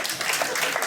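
Scattered audience clapping at a comedy show, a brief, moderately loud patter of many hands in a room, rising and falling over about a second.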